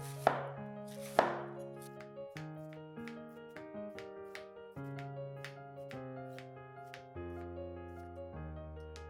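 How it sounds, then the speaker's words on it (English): A knife chops cabbage into thin strips on a cutting board, giving quick, evenly spaced crisp taps close by, with two sharper knocks near the start. "Then, shred the cabbage into tiny strips."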